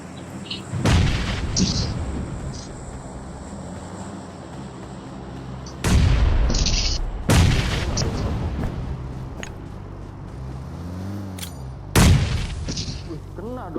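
Bombing explosions in PUBG Mobile on the Erangel map boom loudly at irregular intervals, with four or five heavy blasts and rumbling tails over a constant background hum. Brief mid-range tonal game effects also sound between the blasts.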